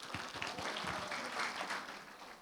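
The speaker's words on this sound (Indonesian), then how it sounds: "Berikan aplaus kepada kita semua." Audience applause at a master class event: a brief spell of steady clapping from a crowd, moderately loud and continuous, with no voice over it.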